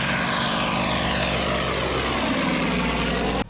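An Antonov An-2 biplane's big radial engine drones loudly in flight overhead, a steady throbbing propeller roar that shifts in pitch as it passes, then cuts off abruptly.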